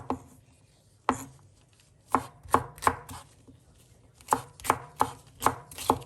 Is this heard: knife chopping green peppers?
yes